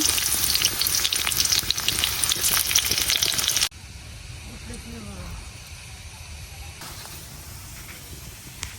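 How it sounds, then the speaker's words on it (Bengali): Chopped onion and garlic fry in oil in a wok with a loud, crackling sizzle that drops abruptly to a quieter, softer hiss partway through, with faint talking under it. "পেঁয়াজ রসুনটা ভালো করে বাজ্যা নিয়ে"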